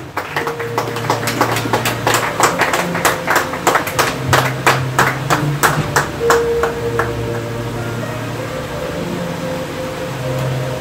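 A church congregation at a Sunday service applauds for the word of God with rhythmic, fairly loud clapping that builds, then thins out into scattered claps over a steady room hum.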